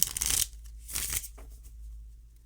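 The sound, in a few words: shuffling tarot cards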